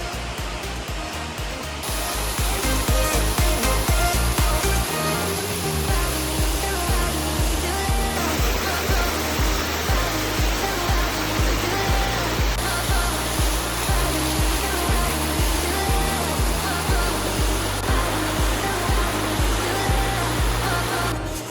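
Tumpak Sewu waterfall in Indonesia roars as a loud, unbroken wash of rushing water, heard up close from the river at its base.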